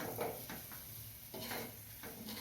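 Egg and capsicum masala sautéing in a pan, a soft steady sizzle broken by a few light stirring scrapes, close and quiet with no voices.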